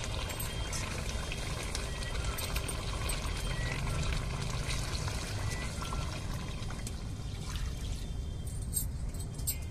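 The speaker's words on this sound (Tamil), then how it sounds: "இப்போ தேங்காய் பாலை சேர்த்துக்கிறோம்." Coconut milk being poured into a pot of chicken leg curry with masala, a soft continuous liquid pour and splash, fairly quiet and steady with no talking.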